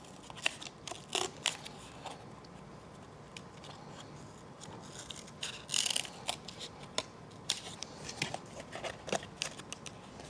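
Scissors snip through material for a model hill, giving a run of sharp, close cutting clicks in irregular bursts against quiet room tone.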